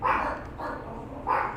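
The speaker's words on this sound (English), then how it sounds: "Dogs are going crazy." Dogs bark in three quick, moderately loud bursts over a second and a half, with no talking.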